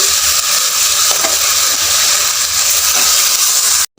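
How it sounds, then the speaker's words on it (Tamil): Chicken fries with ginger garlic paste in a pan, giving a loud, dense, close-up sizzle that hisses without a break, then cuts off abruptly at the end. "நல்லா ஃப்ரை பண்ணிக்கோங்க இப்போ சிக்கனை சேர்த்திக்கலாம்"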